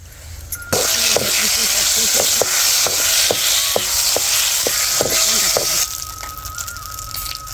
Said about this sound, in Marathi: आता लाल चार पाच मिरच्या टाकल्यात